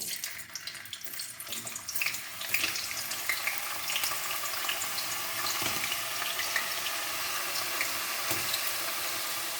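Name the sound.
potato chips frying in lard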